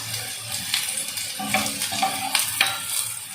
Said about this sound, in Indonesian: Sekarang kita masukkan jamurnya, mushroomnya.